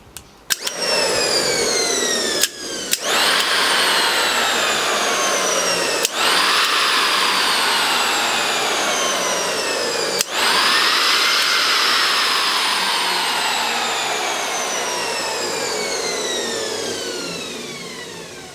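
An unloaded electric motor spins up and over-revs, a loud close whine with rising and falling tones, interrupted by a few sharp clicks as it restarts, then slowly easing down toward the end.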